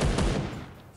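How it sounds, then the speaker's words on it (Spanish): Gunfire in the mobile shooter Free Fire, a loud dense burst of several overlapping shots at the start that tails off over about a second. "Hoy empezaron los disparos."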